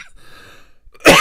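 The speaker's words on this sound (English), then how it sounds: "Sorry, I've got this naggy cough that you know I have" A single sharp, loud cough from an adult man bursts out at the end, after a short quiet pause with faint breathing.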